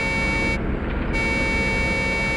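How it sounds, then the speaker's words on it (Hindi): A vehicle horn in a forest setting sounds one long sustained tone, loud and close, the signal sounded by a truck, with a brief dip partway through and no talk. "हॉर्न भी बजा रहा है।"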